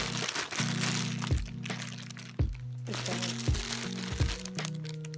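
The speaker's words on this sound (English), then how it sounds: "There's more paper in the bag." Paper crinkling inside a Superdry shopping bag during an unboxing, close rustling and crackling with sharp crunches and scrunches in irregular bursts, with a low hum of background tones running underneath.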